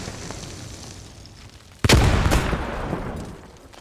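An explosion in a World War II tank battle video game, a sudden loud boom preceded by a faint crack, followed by a rumbling, crackling decay over steady background battle noise.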